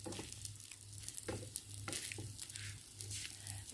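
An omelette crisps in olive oil on a charcoal stove, giving a steady, soft sizzle with a low background hum and a few brief stirring scrapes.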